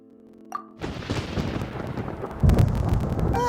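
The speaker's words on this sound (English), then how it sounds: "Paimon hears thunder!" Thunder in Genshin Impact breaks in with a loud, close crack, then rolls on as a broad rumble that surges again partway through.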